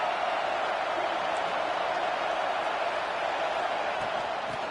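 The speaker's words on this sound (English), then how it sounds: "This crowd ready to make its presence known." Stadium crowd at a Texas versus Kentucky college football game in the video game NCAA 26, a steady, loud wall of roaring crowd noise that holds constant throughout.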